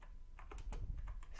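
Rapid keystrokes on a computer keyboard, close and clear, forming a quick irregular run of clicks with no voices.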